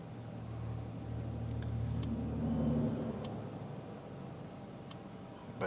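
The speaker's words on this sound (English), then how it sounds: "right now the car is running good" A Nissan Altima 2.5 engine idling steadily, a low, close rumble with a few faint ticks on top and no talk.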